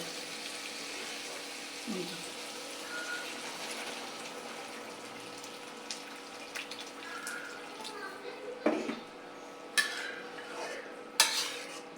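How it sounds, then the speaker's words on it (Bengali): Hot water is poured into a pot of braised curry, a steady watery rush with a soft simmering wash and a few sharp clinks of utensils against the pot toward the end. "আর আমি এখন এতে গরম পানিটা দিয়ে দেব।"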